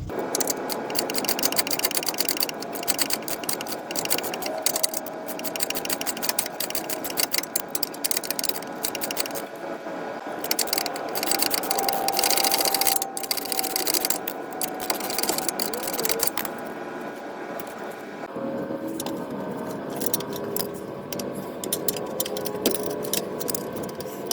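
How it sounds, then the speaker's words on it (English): Ratchet wrench with an 18 mm socket loosening a front control arm bolt on a 2015 Ford Flex, rapid repeated clicking close by, steady and continuous with brief pauses. "We're going to use the 18 millimeter socket with the ratchet to take it out."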